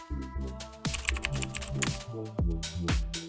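Typing a command into a Kali Linux terminal on a computer keyboard: a close run of crisp key clicks over roughly three seconds, with irregular rhythm and a few heavier strikes, alone with no talking.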